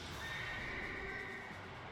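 A horse neighs as the Horseman card is played in a Yu-Gi-Oh! video game: a faint, drawn-out whinny blended into steady, dense background game sound.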